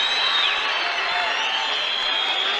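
The crowd at an ACA mixed martial arts bout cheers steadily, a broad roar with whoops filling the arena around the fight.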